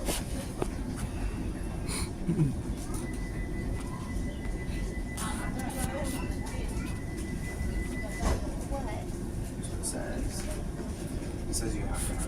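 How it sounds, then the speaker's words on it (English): A London Overground service to Richmond runs with a steady low rumble of wheels on track, punctuated by occasional clicks and rattles. An announcement voice is heard. "This is the London Overground service to Richmond."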